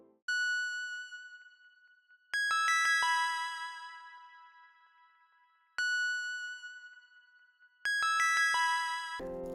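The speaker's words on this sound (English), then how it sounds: "Then I layered a bell-like lead sound but made sure it doesn't play constantly." Bell-like synth lead in a type beat plays in two separated bursts of bright, ringing chimed notes with long decaying tails, leaving gaps between phrases; no voices.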